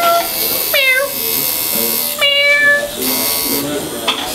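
A person imitates a cat, giving two or three drawn-out meows with a rising-falling pitch over a steady background hum.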